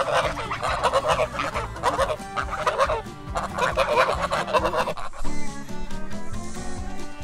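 Backyard chickens in a coop cluck and squawk in a loud, busy chorus, with overlapping calls that drop briefly before resuming.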